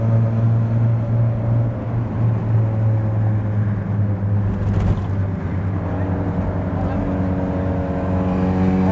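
A Mazda Miata's engine drones steadily while driving through Manhattan, a loud close hum with rising harmonic tones as it revs toward about 3,200 RPM, a brief broadband burst midway.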